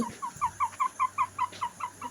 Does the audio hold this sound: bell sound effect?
no